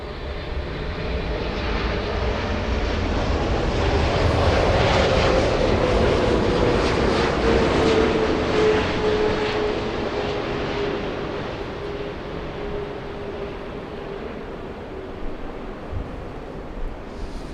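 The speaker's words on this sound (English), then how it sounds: "let's enjoy the Queen of the Skies flying by right next to us. Let's hope it's a nice and butter landing." A Boeing 747 airliner flies close past while landing at LAX, its loud jet roar swelling toward the middle of the run and then slowly fading, with wind noise on the microphone and no talking.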